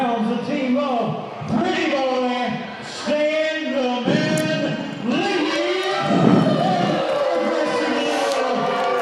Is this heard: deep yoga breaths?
no